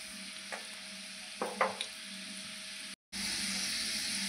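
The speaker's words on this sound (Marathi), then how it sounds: "आता हा लसूण आपल्याला लाल होईपर्यंत परतून घ्यायचा आहे." Garlic fries in a pan until reddish, a steady close hiss of sizzling oil with a few soft stirring clicks and a brief cut in the sound partway through, no voices.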